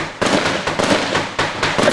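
Gunshots ring out during a military-style training drill, four loud, sharp cracks in quick succession, each with a short decaying tail.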